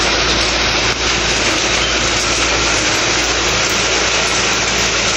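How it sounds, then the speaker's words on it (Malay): Heavy rain pours down, a dense, loud, unbroken roar with no voices. "Hujan lebat."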